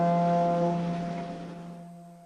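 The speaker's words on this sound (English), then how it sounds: "Rusty thought he had a very tuneful toot" Rusty, a narrow gauge cartoon engine, sounds a steady whistle toot. It is a loud, sustained, harmonic tone that shifts pitch slightly partway through and then slowly fades away, with no one speaking.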